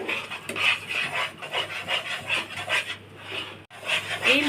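A utensil scrapes and rasps rhythmically against a pan on a low-flame stove as milk powder and flour are stirred together, repeated close strokes with a short pause near the end.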